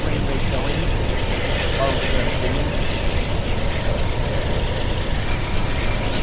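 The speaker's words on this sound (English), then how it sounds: "these are custom sounds that I've modified for this train" Custom-modified train sounds in Train Simulator 2017 give a continuous loud rumble of a moving train with rolling wheel noise, steady throughout with no clear pauses.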